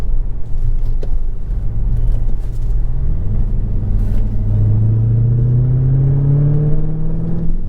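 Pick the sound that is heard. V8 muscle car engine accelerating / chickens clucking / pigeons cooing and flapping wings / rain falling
V8 muscle car engine accelerating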